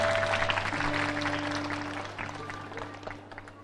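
An audience applauds after a song at a gathering, a full wash of clapping that starts strong and slowly thins out, with a low hum and faint voices behind it.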